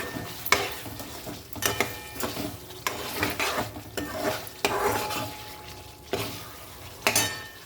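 Home-ground spice masala with turmeric frying in hot oil in a pan, sizzling steadily while a spoon stirs and scrapes the pan in repeated strokes, close and moderately loud with no talk.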